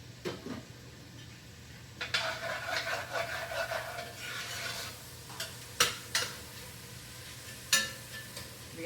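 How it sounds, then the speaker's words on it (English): Onions caramelize in a pan for Cajun sticky chicken, sizzling steadily under repeated scraping strokes of a utensil across the pan bottom, with several sharp louder scrapes, close up and without speech. "Caramelizing the onions."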